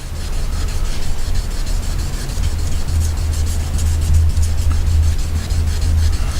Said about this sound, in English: I'm just going to polish the tip real quick just to show you guys.